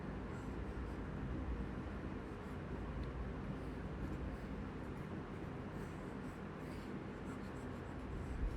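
Chalk or marker writing on a board during a physics lecture, heard as a steady low scratching rub under a constant room hum, faint and continuous with no speech.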